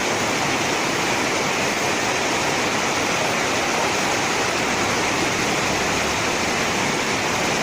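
Heavy storm rain pours down in a dense, steady roar that fills the whole clip without letting up.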